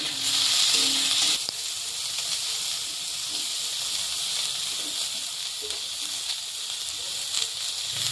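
Chopped onion, a dried red chili, a bay leaf and chopped tomato frying in oil, giving a steady close, loud sizzle and hiss that runs the whole time, slightly stronger at the start.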